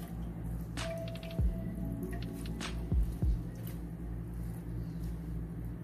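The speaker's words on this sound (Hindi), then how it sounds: "हम अच्छी तरह से दबा दबा के पानी निकाल लेंगे।" Homemade chhena cheese for rasgulla is pressed to squeeze out water, giving a few soft squishes and drips over a steady background hum.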